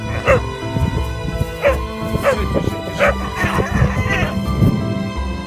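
A small puppy found in a landfill yips and whimpers repeatedly in short, high cries, with a busy background of clatter and indistinct noise around it.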